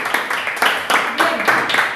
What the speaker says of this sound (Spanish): Aplauso para el hermano